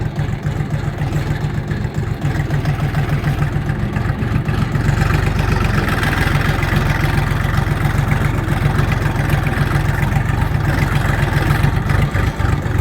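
A Kentavr 244SX mini tractor engine running at a steady idle, a loud, close, continuous low diesel chug with a slight rise in level partway through, no speech.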